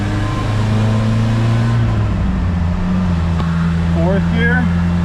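A 1986 Plymouth Voyager's 2.2-liter engine roars at full throttle on a dyno. The drone is loud, steady and close, and a voice is heard briefly near the end.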